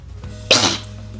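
A single sharp, loud sneeze bursts out about halfway through, short and close, over a low steady room hum.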